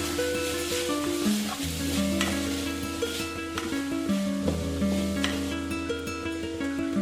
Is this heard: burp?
no